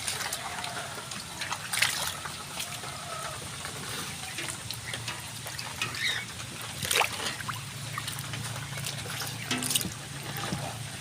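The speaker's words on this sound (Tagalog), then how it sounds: "Tumapon yung tubig." Water trickles and splashes as it is tipped out of an animal pen during a typhoon in Malolos, soft irregular dribbling and small gushes over steady background noise.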